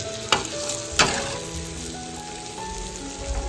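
Onion and dried shrimp masala stirred in a frying pan gives a steady crackling sizzle, with two sharp scrapes or knocks of the spoon near the start, close by and without speech.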